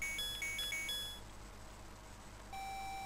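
Electronic beeps from the Zelda Classic video game: a quick run of repeated high chirps for about a second, a brief quiet stretch, then one steady sustained tone that holds to the end, loud and clear with no talking.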